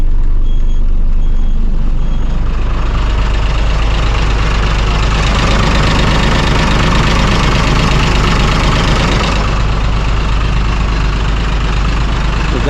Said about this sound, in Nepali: गाडीको आवाज पनि स्मुथ रहेछ हैन।